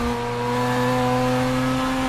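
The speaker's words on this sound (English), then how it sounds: "You can also hear what I mean by revving the nuts out of the thing on the downshift." Race car engine revving hard under downshifts during a night race, a loud sustained mechanical drone with steady harmonic tones held close and continuous.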